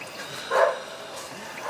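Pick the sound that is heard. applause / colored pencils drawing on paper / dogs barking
dogs barking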